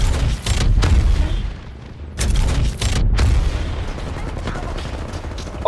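Cannon fire in a video game: heavy, low booms and crackling blasts recur through the clip, with busy game noise in between and no clear talk.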